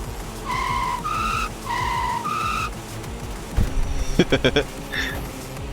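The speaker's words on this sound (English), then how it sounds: "There's the truck." Truck skidding in the video game FlutterBug: two pairs of rising whistle-like tones, then a rapid burst of sharp clattering skid bursts, fairly loud over a steady game background.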